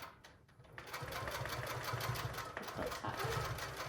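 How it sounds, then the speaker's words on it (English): Sewing machine running steadily while basting a quilt top about an eighth of an inch from its edge, a continuous close mechanical whir with a brief pause near the start, a voice speaking briefly over it. "I'm just gonna sew about 1/8 of an inch away from the top edge of the quilt to baste on"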